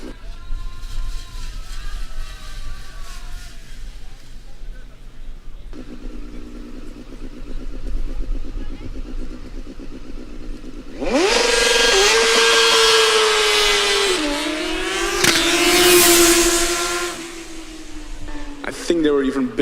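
A Formula Student race car on the acceleration run at FSG 2023, heard from trackside as a loud engine sweeping up through rising revs and gear changes in bursts, with a background of crowd and talk.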